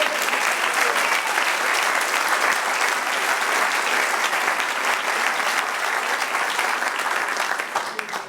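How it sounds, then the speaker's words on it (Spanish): Church congregation clapping loudly and continuously in praise during a Spanish-language sermon, a thick wash of many hands with scattered sharper claps, tapering off at the close. "Denle un aplauso al Señor."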